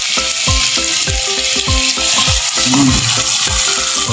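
Tomatoes frying in a pan for chicken tikka kleji, a loud constant sizzle with regular thumping stirs of a spoon against the pan, no talking.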